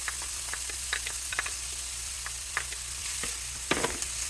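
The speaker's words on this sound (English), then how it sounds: "add my margarine in the pan, and then almost immediately put in my onions" Chopped onions fry in melted margarine in a pan for meat pie filling, giving a steady loud sizzle punctuated by scattered stirring scrapes and pops, with no talking.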